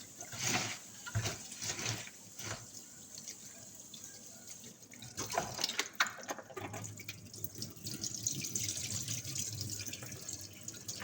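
Kitchen tap water runs and splashes into a sink during washing up, with intermittent gushes, drips and clatter close by, growing steadier toward the end.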